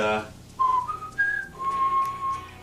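A pet parrot whistles a short melody of a few clear, sustained tones at changing pitches, moderately loud, with faint background noise.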